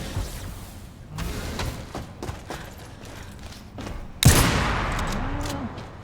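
Gunfire in the Warface video game comes as scattered muffled shots and thuds, then a louder burst of firing with a ringing tail, close and moderately loud.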